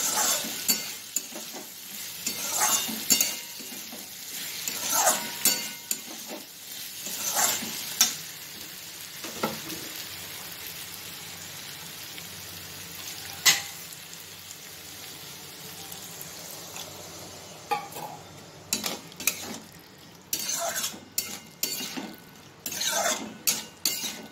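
A spoon stirs papaya dal with sugar in a pot, with intermittent scraping clinks against the metal and soft bubbling and sizzling between, fairly quiet with bursts of stirring near the start and end.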